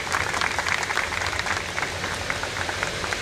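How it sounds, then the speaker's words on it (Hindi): An audience at a school function in Chandigarh claps for the school driver, a brief steady patter of many hands at moderate loudness without any voices over it. "भूपिंदर सिंह जी के लिए तालियां हो जाएं जी"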